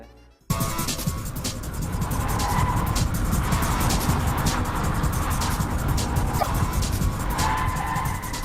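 A Porsche 996 Turbo driven hard through a slalom, its engine roaring steadily at close range with tyres squealing and scrabbling throughout, after a brief quiet start.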